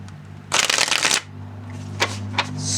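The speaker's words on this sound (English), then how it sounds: "this deck is one of the easiest decks to shuffle" A worn-edged Legacy of the Divine Tarot deck by Ciro Marchetti is riffle-shuffled in one loud, close, fluttering burst, followed by two light card taps over a steady low hum.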